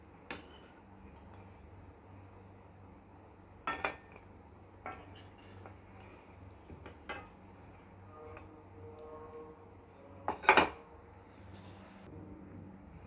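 Utensils clink and tap against a pan as fried paneer gulab jamun are lifted out of oil, sparse light metallic knocks over several seconds with one sharper, louder scrape near the end, faint background hum.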